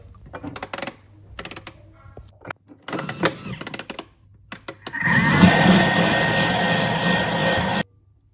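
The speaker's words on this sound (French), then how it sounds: "On ferme notre Thermomix et on envoie 1 minute 30, vitesse 6" A Thermomix food processor runs at speed 6 after a few clicks and taps, a loud steady whirring roar that starts abruptly, holds for about three seconds and cuts off sharply.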